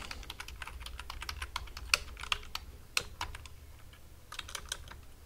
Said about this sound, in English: you're going to type in the password you want.